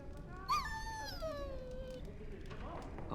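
A dog in the fantasy role-playing game Dragon Age: Origins lets out high, wavering whimpers and a drawn-out whine that slides downward, with a softer yip near the end over faint background ambience.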